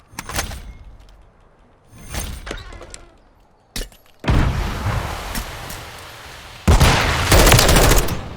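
Video game gunfire from an enemy remote turret, with bursts of shots and sharp impacts, then sustained loud rapid automatic firing in two long stretches near the end.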